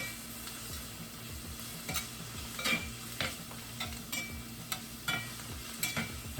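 Ground beef sizzles and fries steadily in a pan for oven pan nachos, with a constant crackling hiss broken by periodic scraping strokes of a utensil stirring the meat, close and fairly loud.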